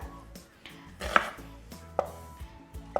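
Raw onions being chopped on a board for a clay-pot chicken dish, a handful of irregular knife thuds and sharper taps close by, with quiet pauses between cuts and no talk.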